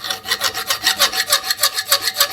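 An MBK 51 moped engine part is scraped clean with fast, even back-and-forth strokes, about six per second. The rasping is close and loud, with no talking.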